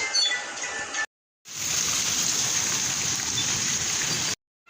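Heavy rain falls steadily in a close, dense hiss, running alone for about three seconds after a brief cut, with no voices.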